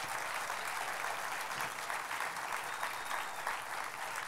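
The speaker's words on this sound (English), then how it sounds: "Let's give them both a huge round of applause." Conference audience applauding, a steady dense wash of clapping that fills the whole stretch at a moderate, even level with no talking over it.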